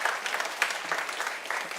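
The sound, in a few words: audience applause welcoming parents at church service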